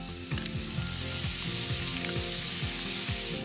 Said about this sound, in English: At this point, we're going to add some garlic.